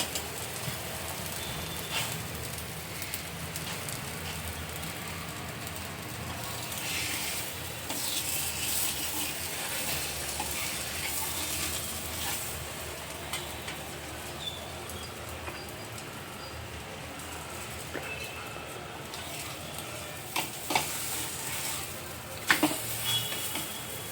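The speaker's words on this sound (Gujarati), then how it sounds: "આવી રીતે બંને સાઈડ તેલ રેડી અને પરોઠાને મીડિયમ આંચે શેકી લેવાનું" Aloo paratha frying in oil on a griddle over medium heat, giving a steady, even sizzle throughout with a few sharper crackles near the end and no talking.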